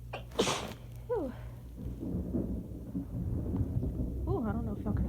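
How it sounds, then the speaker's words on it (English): Low rumbling thunder rolls under steady rain during a storm, joined by nearby rustling, breathy voice sounds and brief vocal exclamations. "I don't know if y'all can hear that thunder"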